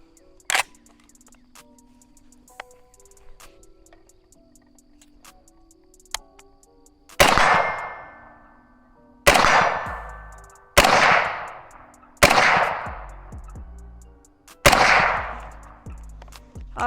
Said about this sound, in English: So we're gonna do about 5, 6 rounds, or how many rounds is left in this magazine, and see how well it shoots.